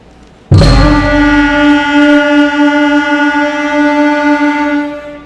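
A beginner band sounds one long sustained note together, starting abruptly and holding steady for several seconds before tapering slightly.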